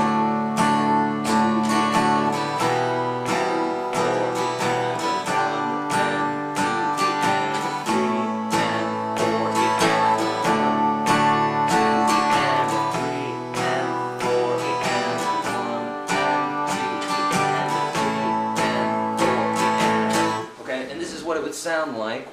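Steady acoustic guitar strumming of chords with a rhythmic pulse and sustained harmonics, playing continuously for about twenty seconds before stopping abruptly near the end.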